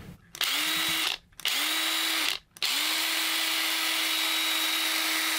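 A Ryobi power tool driven by a homemade Kobalt 24V battery whirs up three times, two short bursts with brief stops, then a steady longer run, loud and close with no talking.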